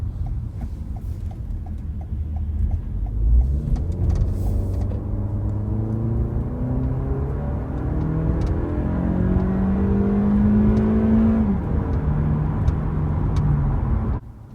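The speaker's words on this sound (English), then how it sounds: "Let's see an acceleration test." A 2024 Toyota Camry SE four-cylinder engine revs up and accelerates steadily for over ten seconds, its droning pitch rising and stepping through gears, loud and close.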